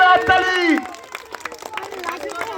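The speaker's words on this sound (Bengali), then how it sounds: "জোরে হাততালি, একটা জোরে হাততালি।" A group claps loudly at a Saraswati Puja fancy-dress performance game, with scattered uneven claps following a brief spoken voice near the start.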